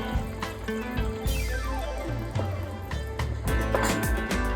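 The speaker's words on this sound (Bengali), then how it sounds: "আরো 1 কাপ দিচ্ছি গরম জল" Hot water pours steadily into a cooking pot for ilish polao, a continuous close splashing fill with a rising pitch that briefly breaks and then resumes more loudly near the end.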